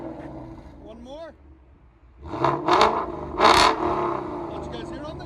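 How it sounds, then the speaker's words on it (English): Ford Mustang GT 5.0 Coyote V8 on a straight exhaust with an X-pipe, giving two or three sharp loud revs over a steady idle, with a short spoken bit beforehand. "You just hear straight exhaust,"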